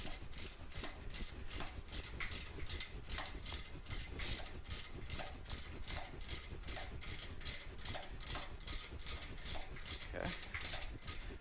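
A ratchet with a 7/16 socket tightens Vance & Hines slip-on exhaust fasteners on a motorcycle, producing a fast, steady series of faint clicking pawl strokes repeating evenly throughout.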